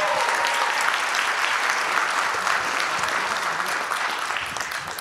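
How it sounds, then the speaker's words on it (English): Audience applause for the Anchor Bay Red Combo, a school jazz combo, at a winter band concert: sustained dense clapping from a crowd, steady throughout and fading slightly toward the end, with no talk. "One more big round of applause,"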